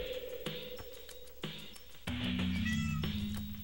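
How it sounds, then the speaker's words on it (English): A cat in the video game .hack//Quarantine meows several times, clear and close, with drawn-out cries over a low, steady game-music backdrop and no talking. "And my cat found me."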